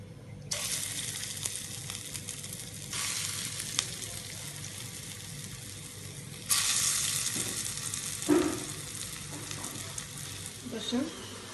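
Lentil fritters (piyaju) frying in hot oil, a continuous close sizzle that swells sharply when more batter goes in, with occasional clinks and stirring knocks and a voice talking faintly underneath.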